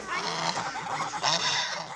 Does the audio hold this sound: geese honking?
yes